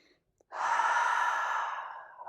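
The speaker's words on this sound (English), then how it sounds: "taking 3 deep breaths per finger" After a brief quiet moment, a single long, deep breath is drawn and released, close and loud, holding steady before gradually trailing off.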